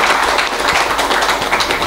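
An audience claps together in a sustained burst of dense, even applause that stays at a steady level throughout.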